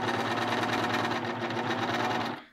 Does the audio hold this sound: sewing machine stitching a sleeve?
yes